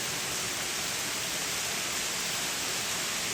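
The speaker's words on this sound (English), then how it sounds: "a multi-story loft garden with waterfall. The guests are really welcomed by this beautiful sound" Indoor waterfall in a multi-story loft garden of a Kyoto hotel atrium, a steady broadband rush of falling water that holds even and unbroken throughout, fairly soft and continuous with no voices.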